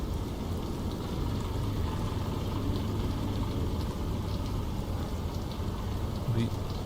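Rain drums steadily in a glider cockpit during ridge flying over the Italian Alps in Microsoft Flight Simulator 2024, a dense continuous wash over a low rumbling drone.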